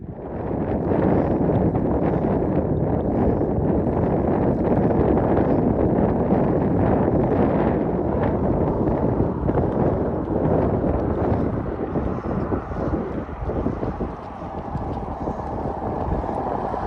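Strong desert wind roars steadily into the microphone, a constant heavy buffeting rush with no voices, on the road from Atar to Nouakchott, Mauritania.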